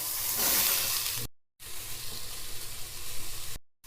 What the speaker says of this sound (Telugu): ఇక ఉల్లిపాయలు వేయించుకున్నాయి